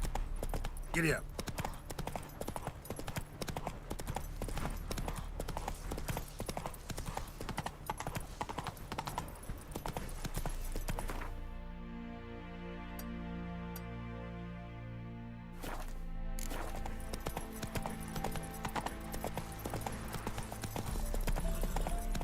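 Horse hooves clip-clop steadily on a road in the video game The Witcher 3: Wild Hunt, a continuous trotting rhythm with a brief lull midway where a sustained tonal sound takes over before the hoofbeats return.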